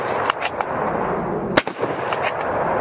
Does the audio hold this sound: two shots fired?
yes